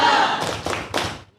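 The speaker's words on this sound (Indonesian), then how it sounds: "Coba tepuk semangat." A group of students claps hands together in a short, rhythmic spirit clap, three quick, loud bursts of clapping in close succession that fade out at the end.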